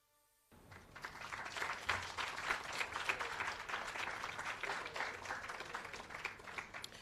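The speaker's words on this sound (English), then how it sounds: "Another round of applause, please." After a brief silence, a crowd breaks into sustained applause, many hands clapping steadily and fairly distant.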